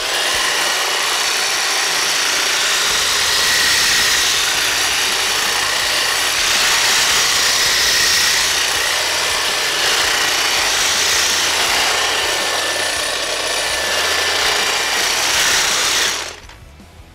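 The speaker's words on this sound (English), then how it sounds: "This hedge trimmer is definitely meant to go on high" A Milwaukee Quik-Lok hedge trimmer attachment runs on its high setting, a loud, continuous buzzing whine of reciprocating blades with slight swells in intensity, up close and without talk, cutting off abruptly near the end.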